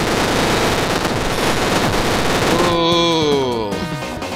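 A big gun blasts in rapid automatic fire in Super Crate Box, a loud, dense stream of shots that cuts off near the end, leaving only chiptune-like tones.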